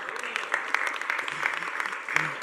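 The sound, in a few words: audience applause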